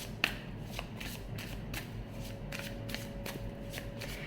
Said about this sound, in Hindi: आप देख सकते हो मैं शफल कर ही रही थी, उससे पहले ही दोनों कार्ड्स बाहर आ गए